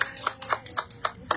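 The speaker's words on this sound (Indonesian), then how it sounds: "Tepuk tangan dong, Ren." A small group claps at a press conference, a brief run of distinct, fairly close handclaps in an uneven rhythm, with no talking over them.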